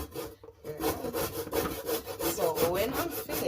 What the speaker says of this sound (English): So this is our big grater.